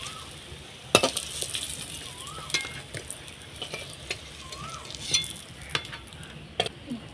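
Slices of pointed gourd fry in hot oil, a constant gentle sizzle broken by sharp metallic clinks and scrapes of a utensil lifting the pieces out of the pan, close and without speech.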